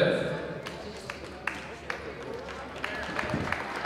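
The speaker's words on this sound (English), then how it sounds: "Gets a nice round of applause from the McFarland fans" McFarland fans in a high school girls basketball gym give a brief round of applause, scattered claps fairly distant under a commentator's voice.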